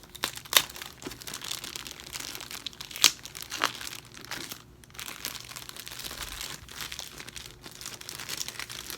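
Taped-up packaging around a Connecting Threads fabric charm pack of forty 5-inch squares being pulled open, with bursts of crinkling and tearing plastic and tape, sharp crackles near the start and around the three-second mark, then steadier rustling.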